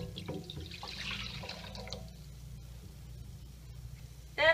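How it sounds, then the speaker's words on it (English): Lukewarm milk pours into a mixing bowl for honey wheat roll dough. The pour is a faint, quiet trickle with a few soft splashes over low room hum, and a brief louder splash comes at the very end. "the first thing I'm going to add is 1 1/4 cup of milk that I kind of warmed up, so it's lukewarm"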